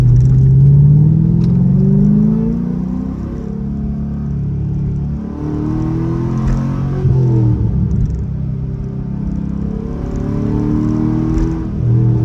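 Corvette C6 engine idling and revving with a deep, steady rumble, rising briefly in pitch a few times, close and loud with no talk over it.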